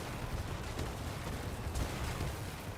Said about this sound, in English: They're very quiet for fireworks.